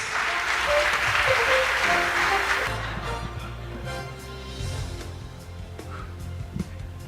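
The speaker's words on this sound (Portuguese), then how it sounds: "Salva de palmas" Applause from the audience at an iFood company meetup on innovation and management, a broad steady clapping that fills the first few seconds and then thins to scattered claps beneath a low background hum and murmur.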